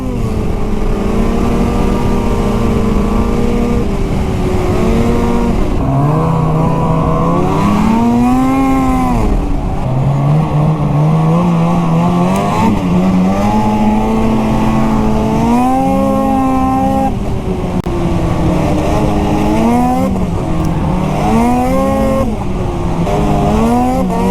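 Loud, steady snowmobile engine running close by, its pitch climbing and dropping through repeated throttle changes over continuous mechanical roar, with no talking.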